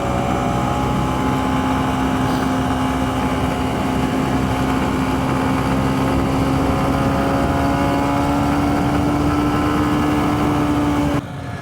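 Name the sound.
Honda CB125F motorcycle engine while riding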